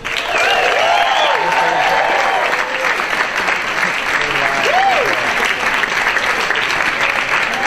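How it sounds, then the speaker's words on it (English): A comedy club crowd applauds and cheers as comedian Mark Normand walks on stage, a loud, continuous wall of clapping with whistles and whoops sustained across the whole stretch. "please give a big round of applause for Mr."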